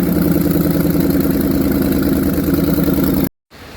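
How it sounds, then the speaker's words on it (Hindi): A 2007 Ford Explorer's 4.6-liter V8 idles steadily and loudly up close, with a dense even rumble, then cuts to a short silence and resumes near the end. "इंजन एकदम फर्स्ट क्लास चल रहा है"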